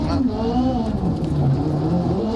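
A rally car engine in the Dirt Rally 2.0 racing game drones steadily throughout, its pitch rising and falling as the car accelerates along an Ocean Beach stage, with someone talking over it.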